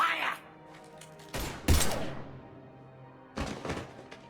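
Sci-fi weapon gunfire from the Mass Effect 3 video game: a loud, dense burst of shots, then a second shorter burst a moment later, with quieter rumbling in between.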